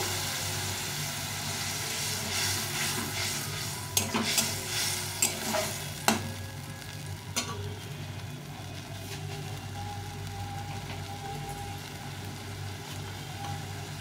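Ghugni ingredients are fried in a pan on a steady low sizzle and hiss, with a few sharp clatters of water being added and stirring partway through.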